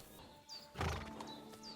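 A video game horse neighs once, short and fairly clear, with a faint high chirping sound before and after.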